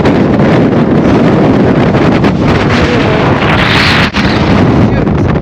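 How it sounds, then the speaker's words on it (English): Strong Patagonian wind on Ruta 40 roars and buffets the microphone continuously, a loud, rushing howl with gusty surges throughout. "Patagonia is notorious for its howling winds, and today was our windy day"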